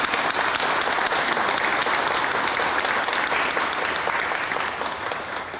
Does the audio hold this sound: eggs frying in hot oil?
no